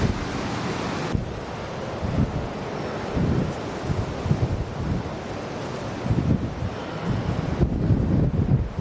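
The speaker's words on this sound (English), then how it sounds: "the wind's really gusting. It's getting a lot worse." Strong gusts of wind buffet an open field with trees nearby, a constant loud roaring rush on the microphone that surges and eases in waves for several seconds, no voices.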